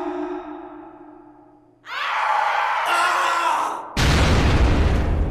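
An explosion in the horror video game Project Selene: after a fading tone and near silence, a sudden loud burst of noise roars up, then a second harsher blast hits and sustains, with no talk.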